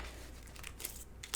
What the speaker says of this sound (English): get rid of this giant piece of tape